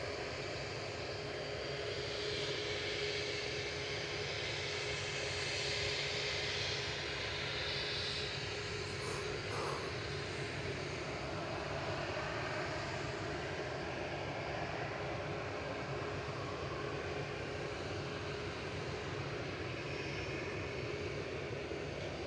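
A TUI Boeing 737 Max 8 takes off from Manchester Airport bound for Cape Verde, a continuous, even engine roar that stays steady and fairly distant throughout, with no voices.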